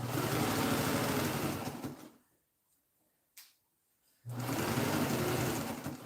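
Sewing machine stitching through fabric in quick loud runs, stopping for a pause of near silence with a single brief clack, then resuming its rapid mechanical whir, with no speech.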